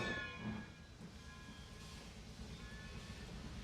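A steam locomotive in the Trainz 2022 railway simulator moves at low speed, a faint continuous low rumble of running gear with a soft whistle-like tone early on, steady and distant.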